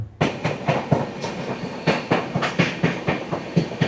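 The Shalimar–LTT Jnaneswari Express rolls steadily along the rails at night, its wheels striking joints in a quick, repeating clickety-clack, loud and close, with no voices.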